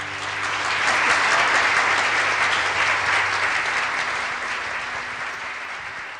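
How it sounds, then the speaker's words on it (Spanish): Sustained applause from an audience at a cardiovascular disease talk, steady and full for several seconds before slowly thinning. "Bienvenida, un gran aplauso."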